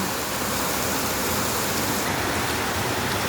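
Dense, steady roar of heavy rain pouring down, loud and continuous with no pauses or voices.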